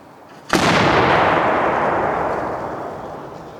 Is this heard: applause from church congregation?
no